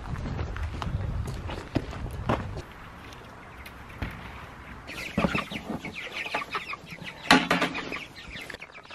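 Meat chickens clucking and shuffling about nearby, with scattered louder squawks and footsteps over a busy background; no one speaks.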